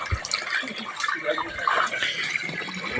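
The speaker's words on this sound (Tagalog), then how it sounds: "Ito po yung outlet ng tubig." Water runs and splashes from an outlet outdoors, a close, continuous trickling with someone talking over it.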